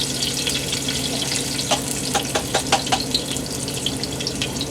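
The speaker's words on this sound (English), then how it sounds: "you call it sweating down the onions" Onions sweating down in a pan, a constant close sizzle with a short cluster of utensil clicks and scrapes in the middle.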